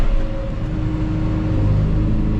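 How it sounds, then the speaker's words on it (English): A tractor engine throttles up to about 1500 rpm in gear, a steady close rumble with a faint rising whine, held at a constant level throughout. "I'm gonna give myself some throttle so the tractor's not weak"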